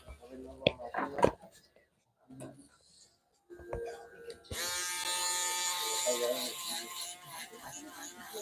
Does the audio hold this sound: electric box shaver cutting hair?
yes